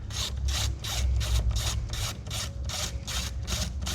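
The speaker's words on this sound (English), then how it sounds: "First thing we're going to do is remove this top cover." Rhythmic rasping and rubbing of the plastic top cover being worked loose from the engine of a Chevy GMC LS Vortec, steady and close, with repeated strokes and no talk.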